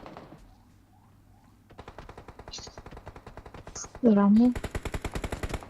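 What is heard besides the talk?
gunfire in the video game PUBG Mobile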